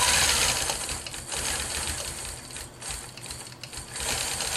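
A Gammill Vision 2210 longarm quilting machine runs in stitch-regulated mode, giving a fast, steady mechanical stitching chatter that rises and falls as the machine moves, close and fairly loud, with no speech.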